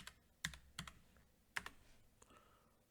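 Keys clack on a computer keyboard in a few sparse, irregular taps, faint and close, with no speech.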